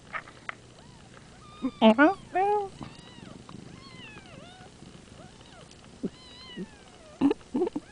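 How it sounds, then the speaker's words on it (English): Tiny, high-pitched squeaky meows from newborn kittens in a wardrobe, coming in short bursts close by with quiet pauses between them. "That's baby kitties."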